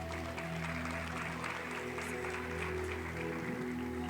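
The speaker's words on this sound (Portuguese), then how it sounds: "Você pode aplaudir a Ele?" Church congregation applauding together, a steady wash of clapping that fills the room at moderate volume, with sustained organ or keyboard tones underneath throughout.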